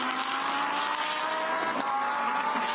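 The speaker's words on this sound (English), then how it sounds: "Great sound of the Lamborghini motor there" A Lamborghini Super Trofeo race car's motor screams at Sepang during the Asia race, a steady, high, sustained engine wail at fairly close range with no talk over it.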